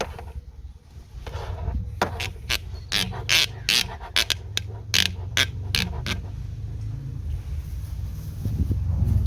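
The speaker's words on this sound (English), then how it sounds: "Take another set of pliers. Move that clamp out of the way." Pliers working a hose clamp on the coolant reservoir of a VW New Beetle: a run of close, sharp metallic clicks and creaks in irregular bursts, with no talk.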